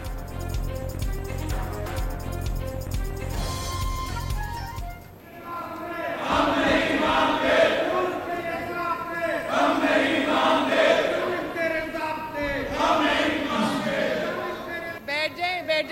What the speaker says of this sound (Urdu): وزیر اعلیٰ پنجاب کی تقریر میں اپوزیشن کا شور شرابہ